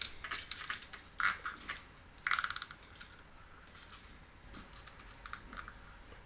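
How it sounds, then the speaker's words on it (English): A plastic cable tie ratchets tight in two short zipping bursts while securing wiring away from the drive shaft of an MJX 10306 Ford Mustang RC car. Faint clicks follow in a quiet room. "So one more cable tie to put back on, again, to lift the cables away from the drive shaft."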